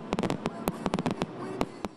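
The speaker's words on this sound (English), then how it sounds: "The 4th of July fireworks spectacle delivering for nearly a half hour" Fourth of July fireworks go off over Dix Park in Raleigh at a big city celebration, sharp booms and cracks in quick irregular succession, loud and close with no talk.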